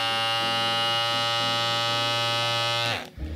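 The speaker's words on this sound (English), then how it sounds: "I was never a fan of the lawnmower sounding clipper that they had, or trimmer. This is relatively quiet." An Andis GTX-EXO hair trimmer runs with a steady, fairly quiet electric buzz close by, holding an even tone for about three seconds before switching off abruptly.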